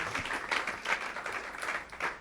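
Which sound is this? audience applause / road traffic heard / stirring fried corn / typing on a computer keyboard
audience applause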